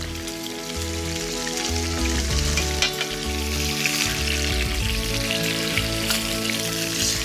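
Salmon fillet frying in a pan gives a constant, dense sizzle, heard under loud background music with steady beats throughout.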